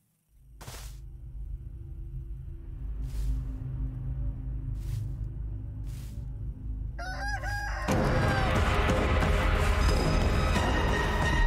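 A giant chicken in the horror stealth survival game Chicken Feet crows near the start and again past midway, with a loud clucking burst toward the end over a steady low game ambience, no talking.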